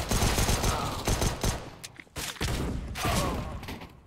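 Rapid, dense gunfire from a Counter-Strike-style competitive league match: loud overlapping automatic bursts and single shots crowd the whole stretch, with a brief lull midway before the firing resumes.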